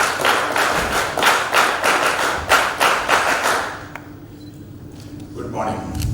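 An audience at a Silver Jubilee function claps in unison on a count, delivering a series of sharp, evenly spaced group claps before falling quiet, followed by faint room noise and a soft voice.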